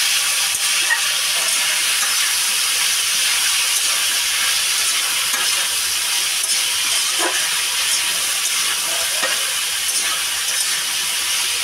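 Vegetables fry in hot oil, a loud, steady, close sizzling hiss that goes on continuously without pause.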